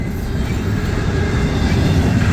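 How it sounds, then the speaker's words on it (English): A long Norfolk Southern double-stack freight train rolls past up close in Shepherdstown, West Virginia, a loud, steady rumble of wheels and cars with faint clicking, no voices. "This is a pretty long train"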